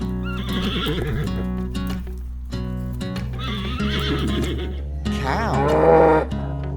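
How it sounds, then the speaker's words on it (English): A horse gives several loud, wavering neighs and whinnies close by, separated by short pauses, with hooves clip-clopping underneath. "Horse."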